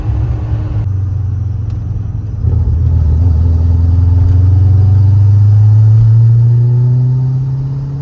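A C6 Z06 Corvette engine doing a burnout, a loud, close, deep rumble that swells steadily and rises in pitch over several seconds before easing off slightly.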